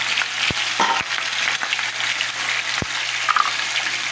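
Flour-coated fish fries in a hot pan, giving a loud, steady, close sizzle and crackle throughout with a few sharp pops, with no talk.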